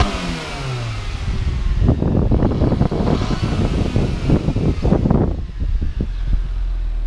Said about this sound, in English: Keep going, like rev it hard.